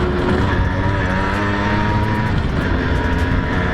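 A 1999 Yamaha YB1 50cc motorbike being ridden on a road at speed, its small engine droning steadily and loud throughout with constant wind and road rumble, no voices.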